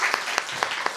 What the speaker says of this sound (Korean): 한번 저희가 응원의 박수를